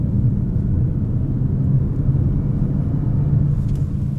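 A Peugeot 408 GT with a turbocharged engine and automatic gearbox accelerating, a steady, loud low rumble and road drone heard from inside the cabin with no let-up.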